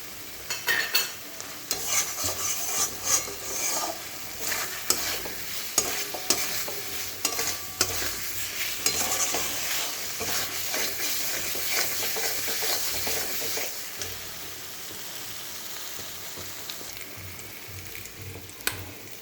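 Pointed gourd (potol) frying and being stirred in a pan for a potol kosha curry with a little sugar, a steady close sizzle broken by repeated scraping strokes of the spatula, with no talking.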